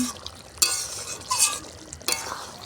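Chicken kofta meat in spiced gravy stirred and mixed in a pan, with a low simmering sizzle under a few distinct scraping and knocking strokes of a spoon against the pan, close by and without talking.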